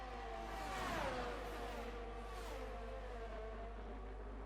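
Formula 1 cars race at the Austrian Grand Prix in a video game, with a high engine whine sweeping down in pitch as a car passes close by, then fainter engine drone trailing off, moderately quiet and alone.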